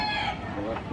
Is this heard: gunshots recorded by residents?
no